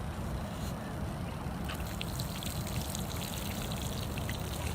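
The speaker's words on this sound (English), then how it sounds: "And then I'm going to put lots of water on it." Water poured gently back and forth over soil freshly sown with spinach seeds makes a steady, continuous trickling wash, close and even, with no speech.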